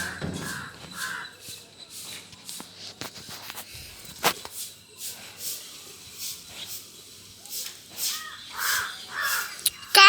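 Crows caw again and again at moderate distance, in bursts of harsh calls scattered over a quiet background.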